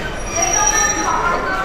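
A train pulling into Dhaka Airport railway station, its wheels squealing with sustained high-pitched metallic screeches over a loud rumbling roar, close by.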